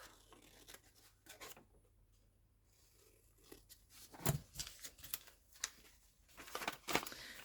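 Paper for a craft project is cut with a few quiet, close snips and rustles, with louder crisp cuts and paper handling toward the end.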